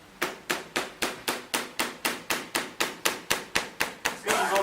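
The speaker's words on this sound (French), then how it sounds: "Ce que je fais, en fait, ça s'appelle faire chanter la meule ou la faire sonner." A metal cheese probe taps a wheel of cheese at a fromagerie in quick, even knocks, about fifteen dry, resonant hits in a row, close and fairly soft, with no talking.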